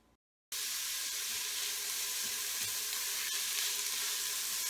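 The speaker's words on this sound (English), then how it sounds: "I'm gonna go ahead and add in my diced onions" Diced onions hitting hot olive oil in an Instant Pot, a brief gap of silence and then a sudden, steady, dense sizzle that holds evenly at close range.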